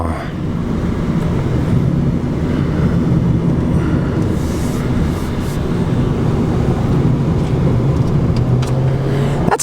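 A Volkswagen Jetta S accelerates around a corner, heard from inside as a steady, loud roar of engine and road noise that holds its level for the whole stretch.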